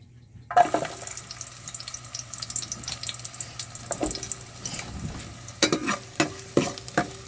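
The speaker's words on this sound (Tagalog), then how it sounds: "Ilagay na rin natin yung hiniwa-hiwa nating bawang at sibuyas." Sliced garlic and onions sizzle steadily in a hot pan for pork nilaga, a continuous close crackle broken by a few sharper scraping stirs near the end, with no talking.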